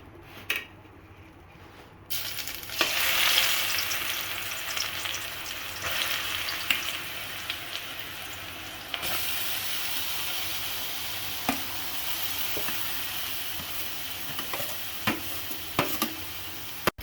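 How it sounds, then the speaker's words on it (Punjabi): Grated mango tipped into two small ladles of hot oil in a pan for a sweet-and-sour chutney, giving a steady loud sizzle with occasional stirring and scraping, no voices. "ਤੇਲ ਆਪਣਾ ਗਰਮ ਹੋ ਚੁੱਕਾ ਹੈ ਦੋ ਕੜਛੀਆਂ ਤੇਲ ਪਾਇਆ ਛੋਟੀਆਂ ਦੋ ਕੜਛੀਆਂ ਤੇ ਹੁਣ ਇਹਦੇ ਵਿੱਚ ਆਪਾਂ ਜਿਹੜੇ ਅੰਬ ਨੇ ਕੱਦੂਕਸ਼ ਕੀਤੇ ਹੋਏ ਇਹ ਪਾਵਾਂਗੇ"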